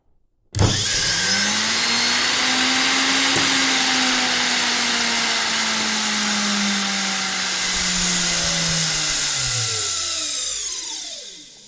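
A washing machine motor driven through a speed controller set to 6 starts abruptly and runs at a steady loud whine for about ten seconds, then winds down as it switches off.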